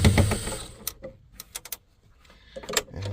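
Screws being backed out of the blower housing of a ducted mini split, heard as short close mechanical clicks and ratcheting bursts separated by brief pauses.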